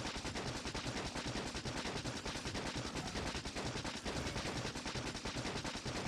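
Rapid, unbroken machine-gun fire from the Factorio Space Age video game chatters at an even rate through the whole stretch, dense and steady at a moderate level.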